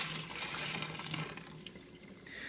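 Water is poured over a Vitamix 300 blender lid sitting in a sink, a quiet, steady splashing rush with a faint rinse-like hiss throughout.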